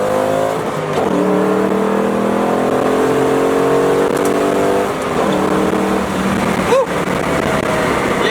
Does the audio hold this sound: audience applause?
no